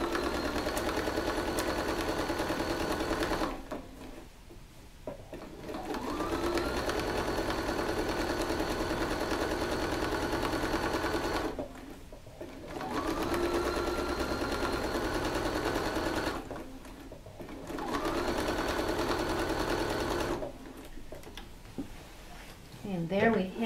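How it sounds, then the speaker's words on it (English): Domestic sewing machine stitching in the ditch along the center sashing seams of a quilt, running in three long steady bursts with short pauses between, fairly close and continuous, with a speaking voice at times. "now I have done stitch in the ditch across the center sashing pieces"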